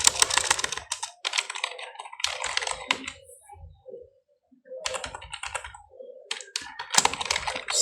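Typing on a computer keyboard while entering a name and email address into a payment form: rapid bursts of key clicks separated by short pauses, close and clear with no talk.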